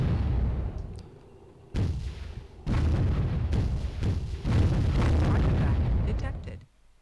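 Units firing on an enemy factory in the real-time strategy game Warzone 2100, a series of booming artillery-like blasts and explosions in uneven bursts, loud and close.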